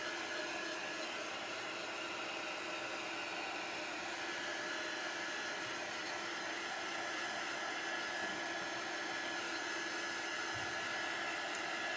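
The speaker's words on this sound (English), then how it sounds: "A lot of times when you're drying something like this with a heat tool or a hair dryer, you can actually see it dry." A hair dryer or heat tool runs continuously at moderate distance to dry a craft project, a steady, even blowing hiss with no talk over it.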